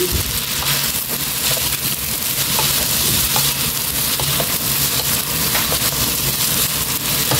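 Garlic pasta with mushrooms and whole garlic cloves being stirred in a hot pan, a steady dense sizzle and frying crackle with scraping stir sounds running throughout, close and continuous with no talking.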